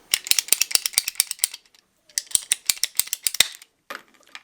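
A PEX tubing cutter snips plastic pipe during mobile home plumbing work, giving two close bursts of rapid ratcheting clicks with a short pause between them and a brief softer click at the end.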